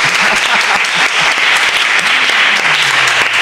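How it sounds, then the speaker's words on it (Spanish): Dense, steady audience applause for Marbella fills the room at full strength, many hands clapping together without a break. "aplausos para Marbella."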